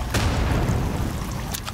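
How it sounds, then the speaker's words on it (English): A bomb going off in the survival video game Sons of the Forest, a loud low boom with rumbling tail that fills the short stretch, with a couple of sharp crackling bursts near the start and end. "It's a bomb!"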